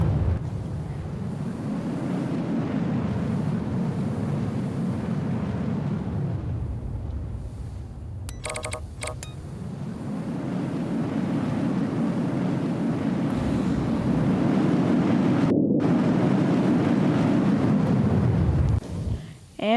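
A Falcon 9 booster fires its landing burn in a space simulation game, a deep, rumbling roar that surges in two long sustained waves with a brief lull between them.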